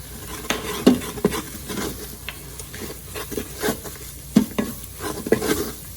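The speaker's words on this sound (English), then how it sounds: "I just want to cook the spices up just a little bit." Ground spices (garam masala, turmeric, coriander powder) stirred and cooked in a thick mixture in an Instant Pot, with a spoon scraping and clacking against the pot in irregular bursts over a soft, steady sizzle; no talking.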